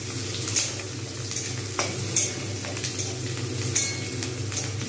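Onions fry in a pan for chicken curry with potatoes, giving a steady, close sizzle marked by a few sharp stirring scrapes, with no talking.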